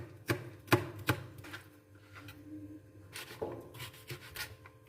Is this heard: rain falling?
no